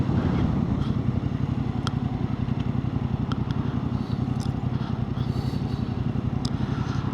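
Yamaha MT-07 motorcycle being ridden, its twin engine thrumming low and steady at close range with a rapid pulsing rumble and a few faint clicks and clatter on top.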